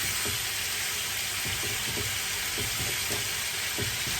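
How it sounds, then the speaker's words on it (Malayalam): Fish pieces frying in hot oil in a pan for fish molee, a steady broadband sizzle throughout with faint scrapes as the pieces are turned. "തിരിച്ചിട്ടൊന്ന് നമ്മൾ വറുത്തെടുക്കണം"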